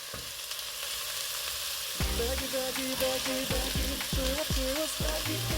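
Red and white onions, garlic and celery fry in a pan, a steady close sizzle with a stirring utensil clicking and scraping in a quick irregular rhythm over the second half.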